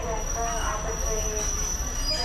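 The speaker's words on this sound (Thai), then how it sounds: "ขณะนี้มีขบวนรถเข้าสู่สถานีค่ะ" A train on the Ban Laem to Mae Klong line rolls into a station with steady rumble and high wheel squeal, loud and close, while a voice speaks over it.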